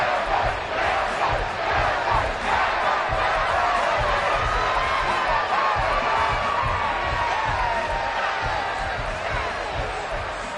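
Football video game crowd cheering and applauding for the defense, a loud sustained roar with rhythmic stomps or claps running through it.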